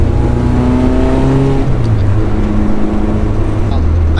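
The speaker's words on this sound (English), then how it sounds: "A lot of wheel spin." A Honda on Maxpeedingrods coilovers and badly expired tires spins its wheels in a turn, the engine revving hard and rising in pitch, loud and close, with a voice speaking over it.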